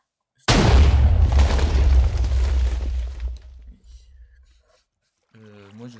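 A TNT cannon fires in Minecraft with a sudden loud, deep explosion that rumbles and fades over about four seconds, then a voice briefly speaks.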